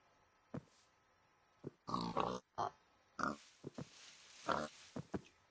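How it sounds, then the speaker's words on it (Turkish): A pig in the video game Minecraft grunts and oinks repeatedly while being punched, short close grunts in an uneven series over a quiet background. "Yumruklaya yumruklaya şu domuzu öldürelim."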